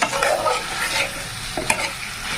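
Dal sizzles loudly in a pan while it is stirred and braised, with a steady hiss and occasional scraping of a spoon, with no one speaking.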